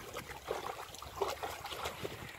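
A dog laps water from a brook on a sunny day outdoors, soft wet splashing and trickling of the stream running steadily throughout, close by, with no talk.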